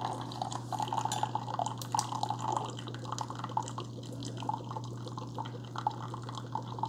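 A Keurig K-Supreme Plus smart single-serve coffee maker brewing on remote command, giving a steady near trickle and drip of liquid over a constant low machine hum.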